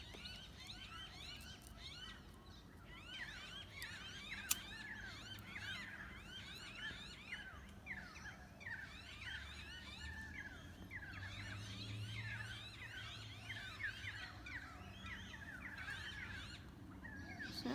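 Unidentified birds calling from trees, a steady chorus of repeated rapid chirping notes from more than one bird, moderately distant, continuing throughout with no talk.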